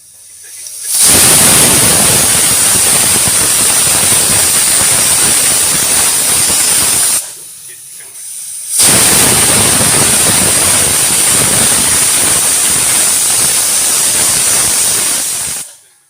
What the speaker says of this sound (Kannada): ಕುಕ್ಕರ್ ಲಿಡ್ಡನ್ನು ಕ್ಲೋಸ್ ಮಾಡಿ ಎರಡು ವಿಷಲ್ ಕೂಗಿಸ್ಕೊಳ್ತಾ ಇದ್ದೀನಿ